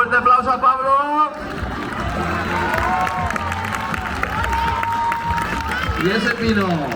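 Audience at a Feria de Abril horse and flamenco show in Gandia, Spain clapping and cheering for a vaulting rider, a broad crowd roar that swells and continues under an announcer's voice over a loudspeaker.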